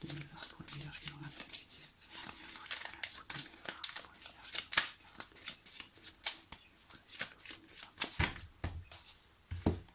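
Tarot cards are riffled and shuffled in quick papery bursts, then cut, close and fairly loud, with soft crinkling in between.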